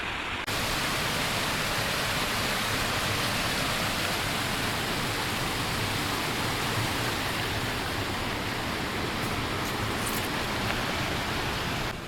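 Creek water in Willard Canyon rushes steadily and loudly, a constant broadband wash close by with no voices.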